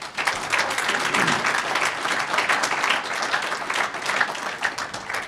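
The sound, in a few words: audience applause for the coaches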